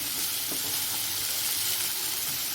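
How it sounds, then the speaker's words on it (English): Food for ulta wada paav sizzles gently in a pan over a low flame, a steady close hiss with a faint stir near the start, no voices. "Let it cook on low flame."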